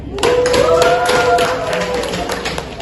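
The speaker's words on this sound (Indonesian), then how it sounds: "Tepuk tangan dulu buat Dinda" A small group claps for a student presenter in a classroom, a brief spatter of close hand taps running under a voice speaking.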